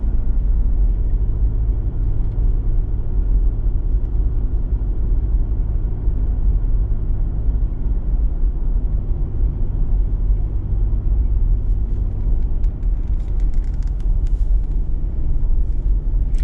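A car cruising a mountain road in Rocky Mountain National Park, Colorado, heard from inside as a steady, loud low rumble of engine and tire noise with no voices.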